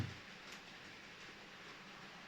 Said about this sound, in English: It's just really nice to be in the center of your layout and see the trains running.